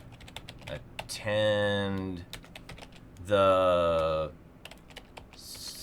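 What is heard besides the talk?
typing on a computer keyboard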